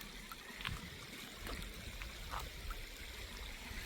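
A Carpathian mountain stream trickles and burbles steadily at moderate distance, a soft continuous wash of flowing water with occasional small splashes and no voices.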